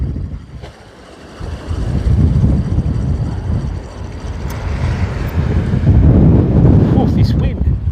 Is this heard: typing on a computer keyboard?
no